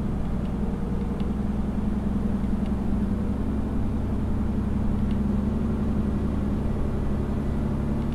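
Mercedes-Benz Tourismo coach engine in Euro Truck Simulator, a steady low droning hum running continuously at even volume with no talk over it.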